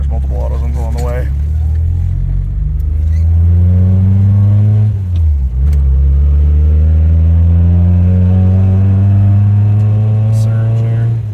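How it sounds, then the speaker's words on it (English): A Toyota 4A-C engine, freshly swapped into a Tercel 4WD wagon, idles with a deep steady rumble and rises briefly as it revs, close and loud, while people talk over it. "Yeah, I'll bump that idle up a bit."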